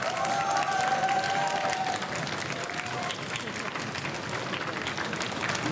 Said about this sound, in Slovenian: En aplavz obe ekipi!